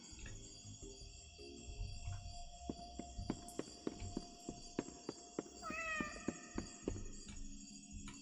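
A cat meows in the video game Indigo Park, with several short calls rising over a steady synthetic game ambience, alongside a run of evenly spaced footsteps.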